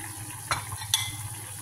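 Fish frying in a pan with zucchini, a steady hissing sizzle of hot oil with two short sharp clinks or stirring scrapes breaking through the frying noise.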